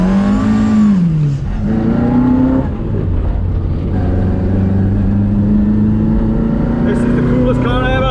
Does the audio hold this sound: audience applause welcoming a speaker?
no